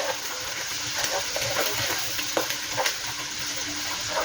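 Spanish sardines fry in oil in a pan for pasta, a steady close sizzle with frequent stirring clinks and scrapes, loud and continuous throughout.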